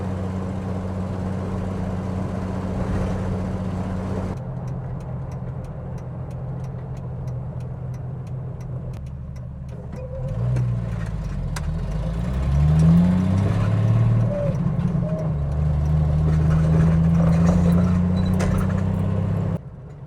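A car drives out of the Overland Expo West grounds near Flagstaff, Arizona, its engine holding a steady mid-range hum that rises and grows slightly louder partway through as it accelerates, with no talking.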